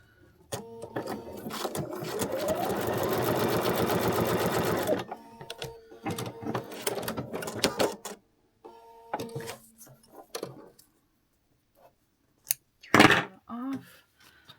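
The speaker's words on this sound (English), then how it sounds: "So now we go sew that." A sewing machine stitches paper-pieced fabric in a steady whirring run of several seconds, close and loud, followed by shorter bursts of stitching, handling clicks and a sharp rustle of paper, with a voice speaking now and then.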